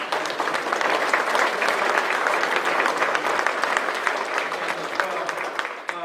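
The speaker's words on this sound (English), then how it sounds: "Can we all give a round of applause?" Audience applause at a school district Hall of Honor induction ceremony, a dense, loud crowd of hands clapping steadily for about six seconds and tapering slightly at the end.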